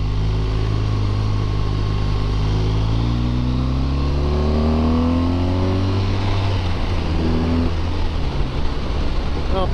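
BMW R1200RT motorcycle engine running steadily while riding through corners, a continuous close drone with rising and falling harmonic sweeps as revs change, no talk over it.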